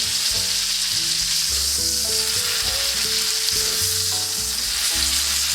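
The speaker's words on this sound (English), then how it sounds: "Let's baste it with the butter here." Beef tenderloin fries with a loud, constant sizzle in a pan while being basted with butter, close up, with steady clatter of the pan or spoon and no talk.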